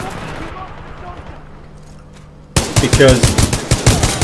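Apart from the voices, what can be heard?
rapid fire of the G2 gun in a video game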